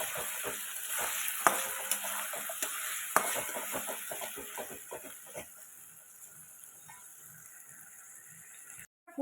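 Whisked sour yogurt, about 100 grams, tipped into a hot pan for doi patal, hissing and sizzling loudly at first with scraping stirs, then settling to a quieter steady simmer with occasional spoon knocks.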